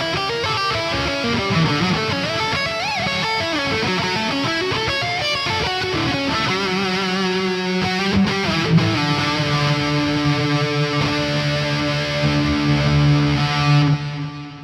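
High-gain distorted electric guitar plays a sustained lead line through the WaveMind Tone Suite Distant amp simulator, with loud, saturated bending notes that sing and slide, alone and steady throughout.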